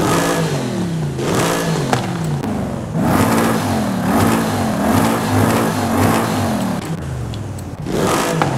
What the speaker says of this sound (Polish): my możemy teraz dodawać sobie gazu, będąc w garażu i słuchać samochodu podczas tuningu